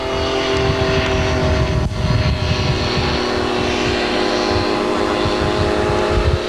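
At a 1981 air meeting in Yverdon, a vintage aircraft's rotary engine runs loud and steady, a continuous rough drone with someone talking over it.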